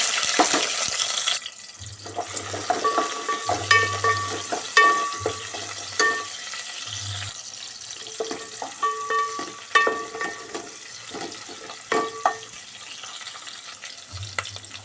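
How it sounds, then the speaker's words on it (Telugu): Tempering spices, onion and green chilies fry in hot oil for a cabbage and chana dal curry, with a close crackling sizzle, bursts of spattering and repeated stirring scrapes from a spoon against the pan. "సరిపడా ఆయిల్ వేడైంది. పోపు దినుసులు వేసుకుందాం."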